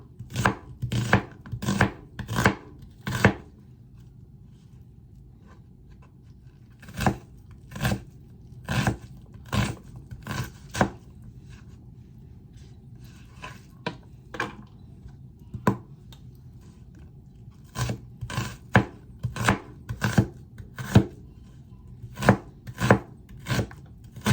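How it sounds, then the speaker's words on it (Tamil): A knife chops onions on a board in quick bursts of sharp, close thuds, several rapid runs of strokes separated by short pauses, with no talking. "வெங்காயத்தை கட் பண்ணுவோம்."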